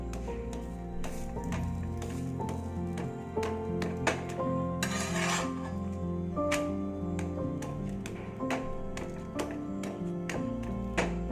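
An iron pan clinks and taps repeatedly with sharp ringing knocks, close by, over a low steady background hum.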